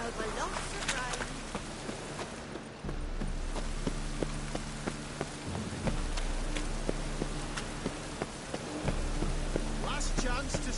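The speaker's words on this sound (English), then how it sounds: "Lots of fuss over lots of rain." Steady rain falls in the video game Witcher 3, a dense continuous patter with scattered louder drops, heard under occasional speech and a low background rumble.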